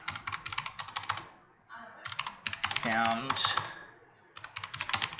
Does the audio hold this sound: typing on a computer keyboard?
yes